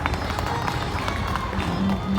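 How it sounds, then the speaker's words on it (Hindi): Devotees in the audience of a Ram Katha religious discourse clap together in a dense, steady patter that fills the whole stretch, with murmuring voices mixed underneath. "और अपने लिए ताली बजा लो आप लोग"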